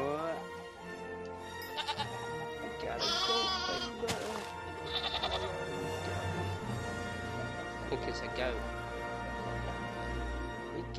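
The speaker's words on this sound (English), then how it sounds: "We got a baby goat." A baby goat in Minecraft Jurassicraft gives several short, high bleats scattered among game sounds and a low hum, with a voice talking now and then underneath.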